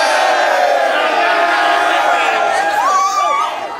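A crowd of spectators gathers at a race finish line, producing a loud, close mass of voices, whoops and cheering chatter that fades slightly at the end.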